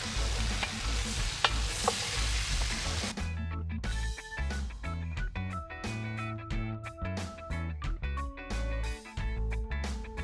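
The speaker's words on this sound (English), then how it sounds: "It's going to take a little time for us to sweat this down" Vegetables for jambalaya sweating in a large pot outdoors on a beach, heard as a bright, steady sizzle for about three seconds before music takes over and drowns it out.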